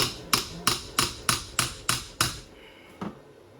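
A chainsaw part is hammered straight with eight evenly spaced, sharp metallic blows, close and distinct, followed by a short pause and one final strike.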